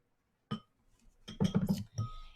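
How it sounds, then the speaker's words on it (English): Incense ashes are scooped into a glass container: one sharp clink, then a quick run of scraping, tapping glassy knocks, close and fairly quiet with no talking. "I'm going to scoop some of those into there."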